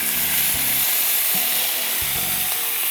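Food fries in a pan as a little water is added while cooking hilsa pulao, giving a loud, steady sizzle and hiss with a few soft knocks of utensils, no voices.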